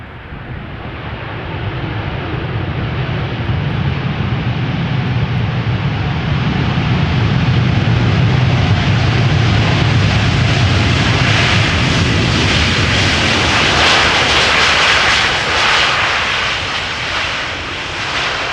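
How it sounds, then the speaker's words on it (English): A Delta Airlines Airbus A350-900 twin-engine widebody, seven years old, arrives at Amsterdam Schiphol, its engine roar building steadily and loud, swelling to a broad sustained rush mid-pass before easing slightly, with some wind buffeting. "Delta Airlines Flight 74 arriving from Atlanta, Georgia."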